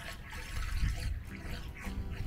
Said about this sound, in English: fill up the water tank.